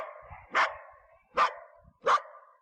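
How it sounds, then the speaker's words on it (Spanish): A dog barks three times, each a sharp single bark spaced under a second apart, close and clear against a quiet background with no talking. "Casi todos dirían inmediatamente que es un perro"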